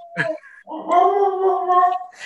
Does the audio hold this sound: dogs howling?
yes